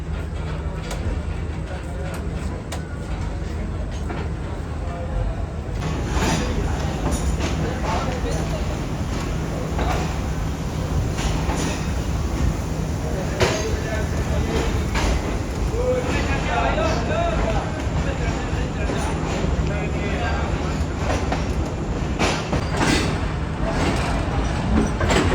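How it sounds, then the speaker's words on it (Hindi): Shalimar Express pulling out of Rohri Junction, heard from aboard an old parlour car: a steady loud rumble of wheels and carriage noise rising after a few seconds, with people talking throughout. "तो फाइनली ट्रेन बगैर सेकंड डिपार्टिंग विसल दिए निकल रही है रोडी जंक्शन से।"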